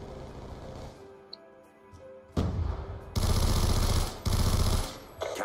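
Bursts of automatic weapon fire from an overpowered gun in a Call of Duty-style free-for-all video game, loud sustained rattling volleys after a quieter start, with short pauses between streams of shots.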